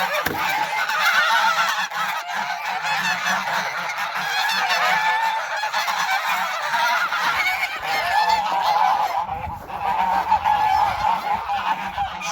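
A dense flock of geese, with ducks, honking continuously, many loud overlapping calls close by, with no talking.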